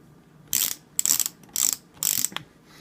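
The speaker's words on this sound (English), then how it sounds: "I'm going to remove that screw." A flathead screwdriver turning the grip screw on a Ruger GP100 revolver, four short scraping, ratcheting bursts in a steady rhythm, close and moderately quiet, with no talking.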